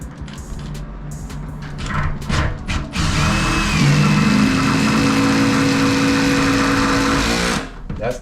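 A power driver runs screws into a shower door frame with blocking behind it, a sustained loud whirring drone lasting several seconds after a few short bursts and knocks.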